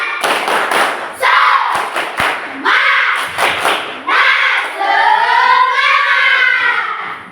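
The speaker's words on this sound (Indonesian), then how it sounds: "Bertepuk semangat dulu biar belajar kita semangat. Tepuk semangat." Fourth-grade pupils perform the rhythmic 'tepuk semangat' spirit clap in a classroom: loud, close, patterned bursts of hand claps alternating with the children's chanted voices in unison.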